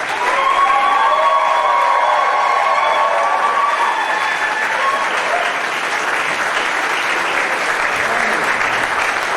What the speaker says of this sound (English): can I get a final round of applause